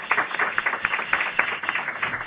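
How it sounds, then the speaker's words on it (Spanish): An audience claps to welcome a speaker at a conversatorio, a dense, moderately loud patter of many hands that carries steadily throughout. "Así que con un fuerte aplauso, damos bienvenida a nosotros."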